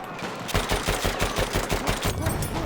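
Rapid gunfire from the video game Battlefield 1, a loud rattling burst of automatic shots that runs for about two seconds after a brief quiet start.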